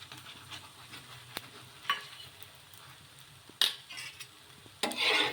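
A rumali paratha fries in oil on a pan, giving a soft continuous sizzle broken by several sharp scraping and stirring clatters and a louder hissing burst at the end, with no talk.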